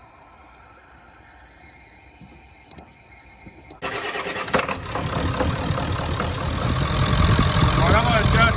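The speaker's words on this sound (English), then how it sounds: "try to give it a start and see how she runs" A 1996 Ford F-250 OBS diesel cranks briefly and then fires, settling into a loud, rumbling running clatter that grows fuller over several seconds, close to the engine.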